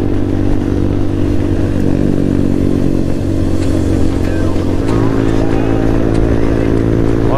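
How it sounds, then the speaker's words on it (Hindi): A group of motorcycles on a Sunday morning ride to Sadra Fort roars steadily and loudly throughout, engines held at high throttle with a dense, continuous growl and occasional rising pitch. "सबने फुल थ्रॉटल दिए गाइस।"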